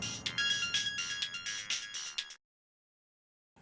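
A phone ringtone plays loud and clear in short repeated melodic bursts for about two seconds, then cuts off into silence in a domestic crime drama scene.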